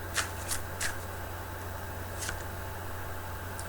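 Tarot cards being shuffled by hand in a quiet room, several quick soft riffling bursts spaced apart over a steady low hum.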